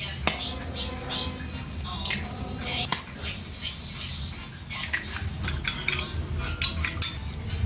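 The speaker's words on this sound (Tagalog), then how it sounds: "magbabatil na tayo ng itlog. Dalawang itlog lang yung ilalagay natin." Two eggs beaten with a utensil for tikoy, heard as quick, irregular clicks and taps against a dish, fairly close, with a voice talking over parts of it.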